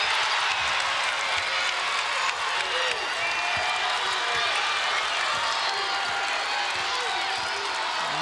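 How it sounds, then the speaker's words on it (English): Drake basketball fans at a 2023 NCAA women's first-round game against Louisville cheer and applaud in a steady, broad crowd roar, with a few scattered shouts. "You hear these Drake fans behind us getting loud, cheering on this team"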